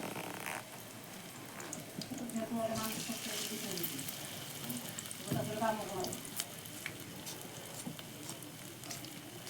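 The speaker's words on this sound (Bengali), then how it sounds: "দিয়ে এখন আমি এরকম করে ভেজে নিব পকোড়াগুলো।" Malabar spinach fritters fry in white oil in a kadai, giving a steady, moderately loud sizzle with crackling bursts and a brief splash partway through, with no talk over it.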